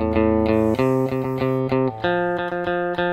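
Electric guitar with a twangy effected tone playing a phrase, a steady run of picked melody notes over a sustained low note, loud, close and without voices.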